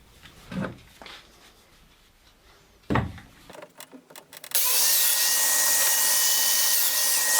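A domino joiner's cutter, a 6mm bit, plunges into redwood or birch ply for a quick test cut: after a few soft knocks and handling sounds, a loud steady motor whine starts and holds near and constant to the end.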